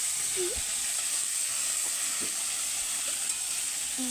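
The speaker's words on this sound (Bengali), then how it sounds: "এই যে এখানে ভাত রান্না হচ্ছে, বেল বেল করে ফুটছে" Rice boils hard in a pot on a home stove, a constant close hissing, bubbling rush with faint clinks and murmurs underneath, steady from start to finish.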